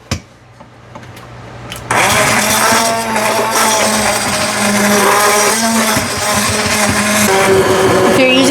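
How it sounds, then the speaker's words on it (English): An immersion blender whirs into cooked apples for applesauce, starting abruptly after a quiet moment and then running loud and steady with a shifting motor pitch for several seconds. "So we are going to use our immersion blender and blend it up."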